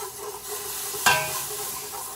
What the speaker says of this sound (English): So we're going to slowly stir in the half and half